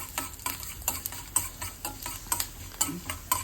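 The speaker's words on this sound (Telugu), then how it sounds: "1 టేబుల్ స్పూన్ మినపప్పు, కొంచెం జీలకర్ర, కొంచెం ఆవాలు వేసుకొని ఫ్రై చేసుకోవాలి." Urad dal, cumin and mustard seeds frying in a tablespoon of oil, a soft sizzle under regular scraping strokes of a spoon stirring the pan, close by and with no voices.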